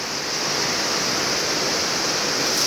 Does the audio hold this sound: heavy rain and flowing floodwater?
yes